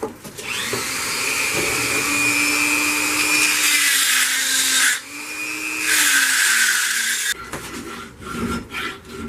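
A die grinder cleans out the hole in a bone blade handle with a steady, close, high-pitched whine. It drops out briefly near the middle, then stops, leaving a few scraping and handling noises.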